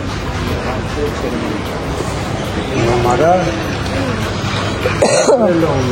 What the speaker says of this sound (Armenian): Հազս հլը չի ամսել։